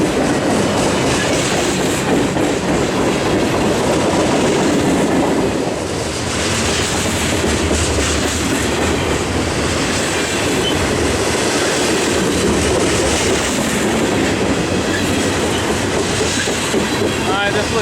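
A CSX freight train rumbles along the track close by, a loud continuous roar with wheel clatter and rolling noise that holds steady throughout.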